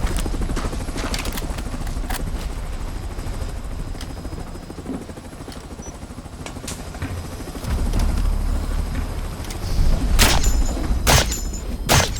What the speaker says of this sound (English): I'm sending a chopper to pull you out.